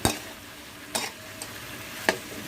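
Pork is stir-fried in a pan, with a low background sizzle broken by three or four distinct scraping spatula strokes, close and moderately loud, and no talking.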